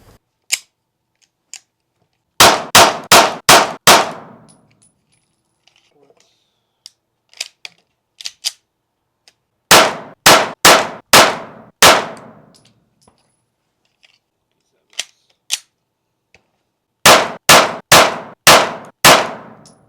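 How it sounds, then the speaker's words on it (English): Three strings of pistol shots are fired at 10 yards from ported 2011-style handguns, each a rapid burst of four to five sharp, loud cracks, separated by quiet pauses with occasional faint clicks. "I just shot the strings for all three of the different guns at 10 yards"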